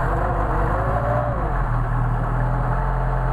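A Mercedes 190SL on Solex carburettors, choked after sitting about a week, runs steadily at close range with a constant low mechanical drone and no voices.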